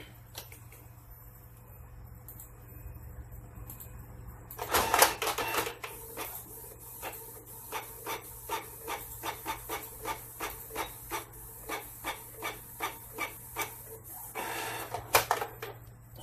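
A Canon IP2770 inkjet printer runs a test page. A burst of mechanical whirring comes first, then a long series of evenly spaced clicks and thumps as the print head passes, and a final whir, all over a low background hum.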